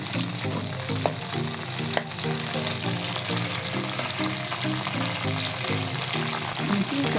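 Green chillies frying in a pan, a continuous loud crackling sizzle with occasional stirring clinks throughout.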